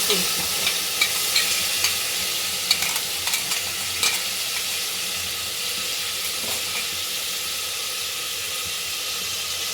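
Onion paste fries in hot oil for a chicken sambar, giving a steady, loud sizzle throughout with a few brief scraping stirs near the start.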